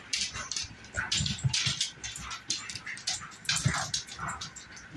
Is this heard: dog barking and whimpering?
yes